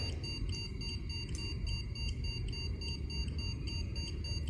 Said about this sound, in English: Are you making that box beep?